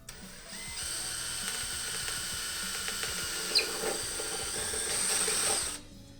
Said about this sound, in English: find a location somewhere in there to drill a hole